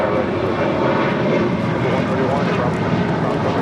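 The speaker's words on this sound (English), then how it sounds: "This is Alaska 1332 departing to Loretto on a 737-800" Boeing 737-800 airliner departing LAX, a loud, continuous broadband engine roar that holds steady throughout with no breaks.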